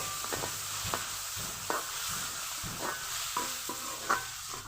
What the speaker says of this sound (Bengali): মাছের তেল দিয়ে আরও কিছুক্ষণ কষিয়ে নেব